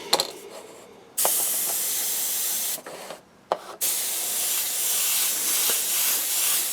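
Long, loud hissing bursts from a can of yellow spray paint over a landing pad stencil, broken by a couple of brief pauses, with faint clicks between sprays.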